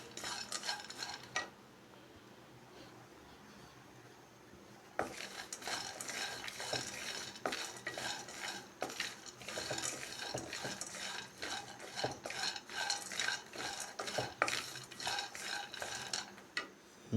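A spoon scrapes and clinks around a pan while finger millet flour is dry roasted without oil, a quiet, busy stirring that starts briefly, pauses, then continues steadily with small metallic ticks.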